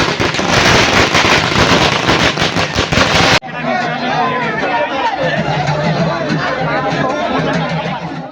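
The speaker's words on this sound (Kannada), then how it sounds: "ಪಟಾಕಿ ಹೆಚ್ಚು." A rapid string of firecrackers bursts loudly at first, then gives way to the noisy chatter of a crowd at a village temple fair festival.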